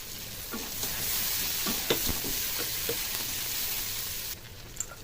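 Nigella seeds tempered in hot oil before chopped onion and green chili go in, heard as a loud, continuous sizzle with scattered stirring scrapes, easing slightly near the end.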